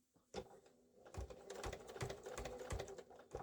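A sewing machine stitches a seam through two layers of fabric in a quiet room, a rapid soft rattling run of needle strokes after a brief start, faint and close, with no speech.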